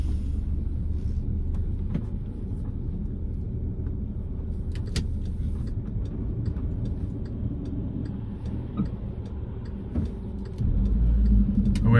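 2010 Skoda Yeti 1.2 TSI S with 83,219 miles pulling away, heard from inside as a low steady engine and road rumble with faint clicks, swelling slightly louder near the end.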